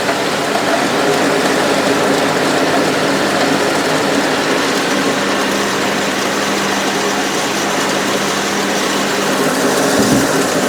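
A 4-in-1 spice pulverizer machine processing paddy mixed with stones and nuts and bolts gives out a loud, steady, unbroken mechanical roar for the whole stretch, with no talking.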